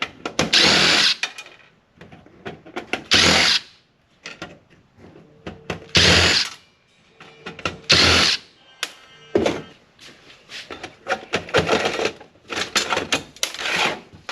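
A power driver spins Torx screws out of a burned metal frame in several loud, close bursts of whirring and rattling, separated by short pauses.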